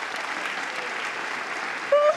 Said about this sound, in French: Est-ce qu'on peut applaudir pour lui, s'il vous plaît?